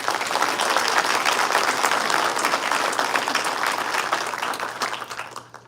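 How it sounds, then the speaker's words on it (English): A crowd at a city State of the City event claps for sponsors, dense, fairly loud applause sustained for about five seconds before tapering off. "Please give our sponsors a huge round of applause."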